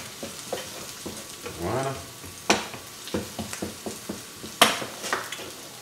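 Onion and garlic fry in a pan, a soft sizzle under intermittent stirring clacks and utensil taps close by, with a brief spoken word from a cook.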